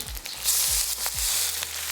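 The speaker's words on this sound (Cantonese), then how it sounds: "We'll spread out the chicken but not flip it yet so we can get a good sear." Chicken pieces sear in a pan for a clay pot dish, with a loud continuous sizzle and a few knocks and scrapes close by.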